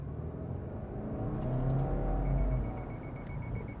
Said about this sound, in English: I'll kind of punch it as we're accelerating again.